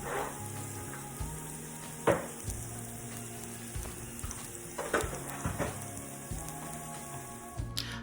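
Half of a large red onion frying in a pan over medium heat, a steady soft sizzle running throughout, with occasional clinks and scrapes of a utensil stirring against the pan.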